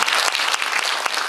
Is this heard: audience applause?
yes